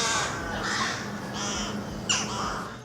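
Urban crows cawing along a city street, several harsh calls spaced through the clip with a sharper, louder caw near the end, set against steady traffic rumble.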